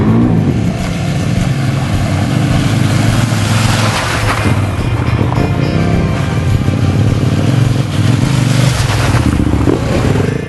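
An Enduro World 650 motorcycle rides a rally raid route, its engine revving and surging up close with clattering and scraping over rough ground, loud throughout and without talk.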